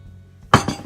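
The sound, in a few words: stirring fish marinade in a dish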